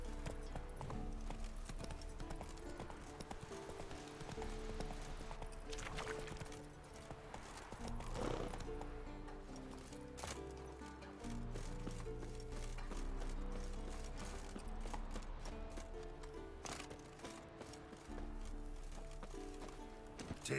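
Roach, a horse in The Witcher 3: Wild Hunt, gallops with steady rhythmic clip-clop hoofbeats, close and continuous over a dense game soundtrack, with a brief whinny midway.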